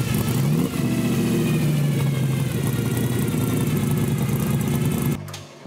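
A street rod at an outdoor car show runs loud and close, its engine revving up then holding a steady rumbling roar for several seconds before cutting off abruptly near the end.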